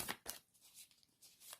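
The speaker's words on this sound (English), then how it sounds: "These are so hard to shuffle" Tarot cards being shuffled by hand, a few quick, faint riffling bursts close by in a quiet room.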